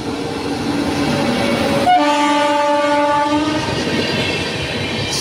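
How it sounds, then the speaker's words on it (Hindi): An express train on the main line at Rajpura railway station sounds a long steady multi-tone horn while rolling in, with rumbling wheels and faint clickety-clack underneath, loud and fairly close. "मेन लाइन पे आप देख सकते हैं एक ट्रेन आ रही है।"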